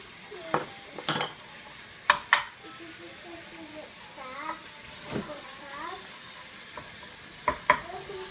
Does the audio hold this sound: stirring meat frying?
yes